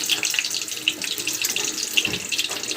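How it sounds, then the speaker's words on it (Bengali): Dried red chillies sizzle in hot mustard oil, a steady broadband crackle with scattered sharper pops, close and fairly loud, with no talking. "তেলটা ভালো করে গরম হয়ে গেছে এবার এর মধ্যে তিনটে শুকনো লঙ্কা দিয়ে দিচ্ছি"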